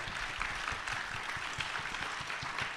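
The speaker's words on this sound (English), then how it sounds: "Can we give our panelists another round of applause?" An audience at a podcast taping applauds a panel, a steady round of clapping with some deeper thumps mixed in, holding at an even level.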